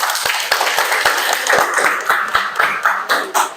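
Eighth-grade students in a classroom clap in a quick, steady rhythm, a close burst of evenly spaced hand claps.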